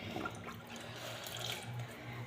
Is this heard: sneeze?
no